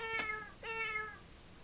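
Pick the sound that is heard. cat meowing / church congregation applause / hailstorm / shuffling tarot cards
cat meowing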